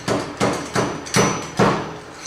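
Five firm, evenly paced taps sound close by as a seal driver knocks an oil seal down onto a Harley-Davidson Hydra-Glide fork tube, each dull metallic knock fading quickly before the next.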